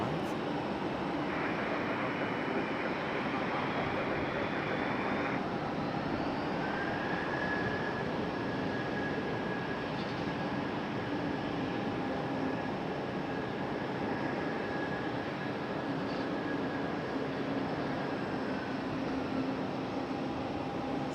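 An Embraer E175 jet airliner at Raleigh-Durham airport produces a steady, moderately distant engine roar with a thin high whine running throughout, a continuous drone with no voices.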